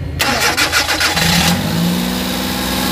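A Suzuki DA64/DA63 mini van's K6A engine, treated for a vibration issue, cranks briefly and catches, then settles into a steady, close idle hum.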